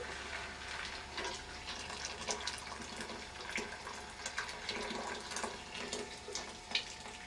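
Yeast starter liquid for peach wine being poured, a steady, fairly quiet splashing stream that runs continuously without voices.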